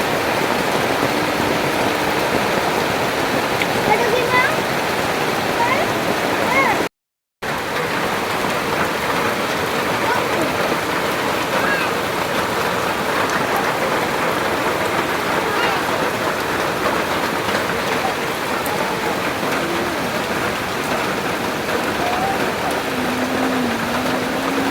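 Steady rain falls outside a small house, a dense, even wash of drops on surfaces that continues throughout with one brief cut, with no voices over it.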